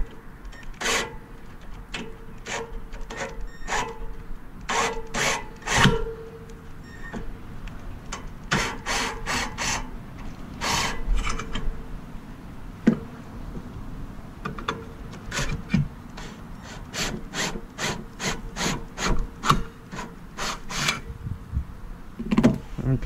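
A drill boring holes in wood while a kayak launch dock is installed, heard as a series of short, separate bursts with brief pauses between them, fairly close and fairly loud, with no talking.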